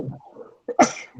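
A single sharp sneeze from a player at a tabletop role-playing game session, preceded by soft murmuring, close and brief.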